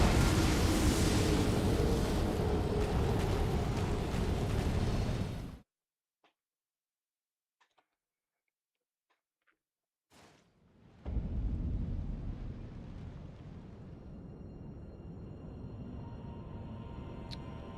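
Lightning strikes in Elden Ring: a long, loud roaring crash of thunder that cuts to near silence, then a second heavy rumbling strike that swells and lingers.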